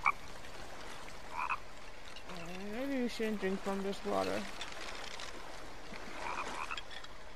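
Frogs croak in The Forest video game, a run of low, rhythmic ribbits in the middle of quiet ambient water, with a player talking briefly over the start.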